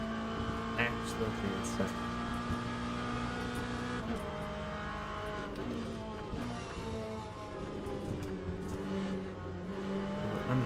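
An LM GT3 race car engine in the Le Mans Ultimate racing game drones steadily and loudly throughout, with its pitch rising and falling through revs and shifts, while someone talks over it.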